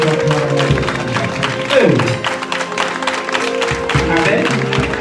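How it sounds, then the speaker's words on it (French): A church congregation claps and cheers for Jesus, a continuous wash of applause and voices rising and falling, with music and a speaking voice underneath. "Acclamons Jésus."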